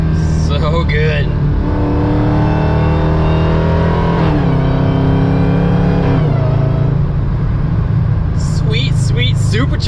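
A supercharged Hellcat engine swapped into a Dodge Dakota pickup revs and pulls hard from inside the cab, its pitch rising and falling through gear changes with a steady supercharger whine, loud and continuous while people talk briefly over it.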